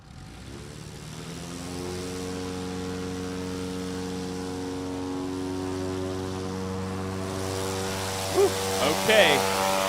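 A STOL aircraft taking off at Music City Executive Airport during a short-takeoff practice event: a steady, tonal propeller-engine drone that builds and holds, heard from a moderate distance, with a brief voice near the end.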